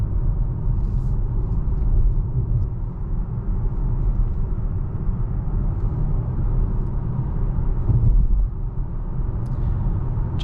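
Steady low road rumble from inside a moving 2023 Volvo C40 Recharge electric car on rough pavement, continuous and fairly loud, with a dense textured roar from the tires and no talking.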